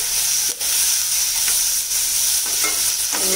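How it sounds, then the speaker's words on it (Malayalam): Onions and tomatoes sizzling loudly in a pan while being stirred for a special egg roast, a dense close frying hiss with scraping strokes of the spoon throughout. "തക്കാളിയും കൂടി ഇട്ടിട്ട് നന്നായി അങ്ങോട്ട് ഇളക്കിയെടുക്കാം"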